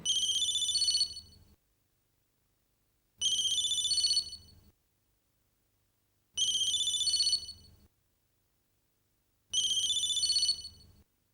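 A phone ringtone plays in four evenly spaced bursts, each about a second and a half long, with silence between them; clear and close.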